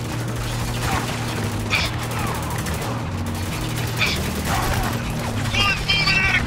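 Heavy turret gunfire in the Spec Ops: The Line video game, dense bursts rattling over a low rumble with a few sharp metallic cracks, loud and continuous throughout.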